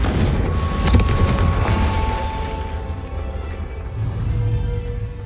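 Confringo fire spell from Hogwarts Legacy, cast in a classroom: a low rumbling blast with a bright burst near the start, then a sustained roaring, crackling body that fades slightly before a second swell, with no talk over it.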